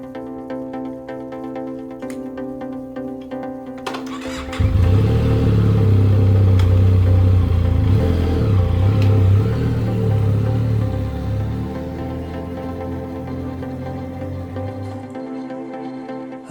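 A motorcycle engine hums at first, then rises into a loud, steady, droning roar while riding along roads in Phang Nga, Thailand, and eases off slightly near the end.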